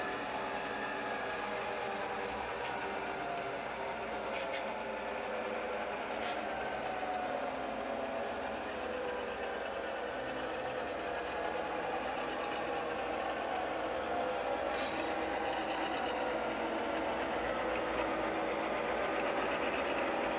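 A steady, droning diesel engine rumble from a model Burlington Northern GP9 locomotive with a Tsunami sound decoder, idling continuously with faint higher whines and occasional brief metallic ticks.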